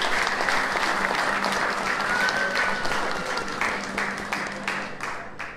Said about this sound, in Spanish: Pues otro aplauso más para ellos.